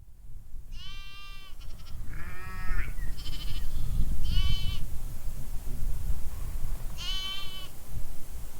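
Sheep on a Peak District hillside bleat several times in wavering calls, some near and loud, others farther off, over steady wind noise.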